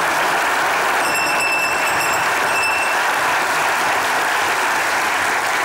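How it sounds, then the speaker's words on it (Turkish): Audience applause for Atakan after his acting role on a Turkish comedy stage show, a loud, dense, sustained wash of clapping that runs steadily throughout, with a few brief high chiming tones near the start. "Alkışlarla zile gidiyor Atakan"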